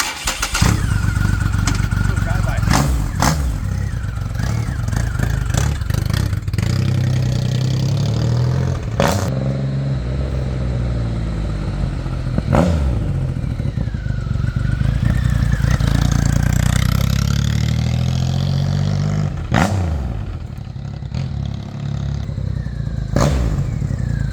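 A 2009 Triumph Rocket III motorcycle engine runs at a steady, close idle throughout, with occasional slight rises in pitch, while someone talks over it.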